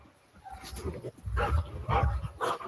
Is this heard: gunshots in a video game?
no